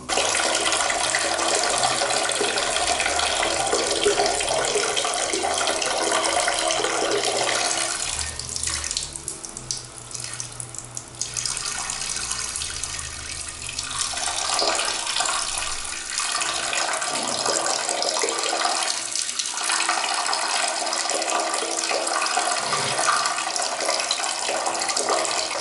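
A man urinating in a garage, a steady, forceful splashing stream of liquid that runs continuously and loud, close by, with a brief flush-like surge partway through.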